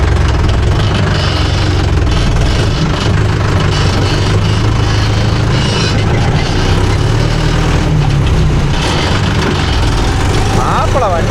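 Mahindra Yuvo Tech Plus 585 4WD shuttle-gear tractor engine running steadily with a loud, continuous low rumble, held at a constant level throughout.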